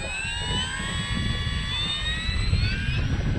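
A Durafly Tundra RC airplane fitted with new tires flies on a windy morning, giving a steady, high electric whine whose pitch drifts up and down over a constant low wind rumble.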